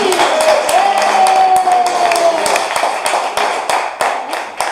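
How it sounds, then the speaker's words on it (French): Stadium crowd before a Nice versus Strasbourg football match claps and applauds a former Nice player, a loud, dense patter of hands under someone speaking over a public address. "Je vous demande d'applaudir bien fort Eric Wouloundi."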